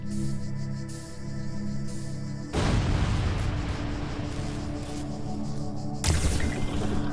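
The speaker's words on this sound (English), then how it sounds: "We even get a big giant explosion at the end." A big explosion in the puzzle video game The Talos Principle bursts in as a sudden broad roar over a steady ambient soundtrack, sustaining for several seconds before a second sharp burst near the end.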